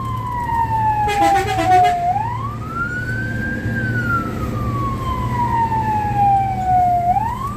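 Fire engine siren wailing in traffic on the way to a grass fire: a loud, close, slow rising and falling wail, with a brief burst of rapid yelping pulses, over a steady engine rumble.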